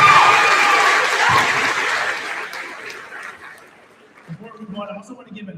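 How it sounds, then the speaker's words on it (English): Loud crowd applause at a high school graduation ceremony for a student speaker, fading out over a few seconds before a voice begins speaking. "Let's give a round of applause for Melanie, please."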